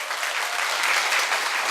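Sustained audience applause fills a Korean lecture hall for a franchise founder's talk, a steady dense clapping wash from many hands, loud and even throughout with no speech over it.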